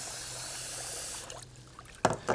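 Rice swirled and rinsed in water for a third time, a steady wet sloshing wash that drops away, then a couple of brief splashy bursts of water near the end.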